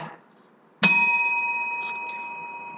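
A single bright bell strike signals the end of a meditation sitting after a short quiet moment, its clear tone sustaining and slowly fading over a couple of seconds.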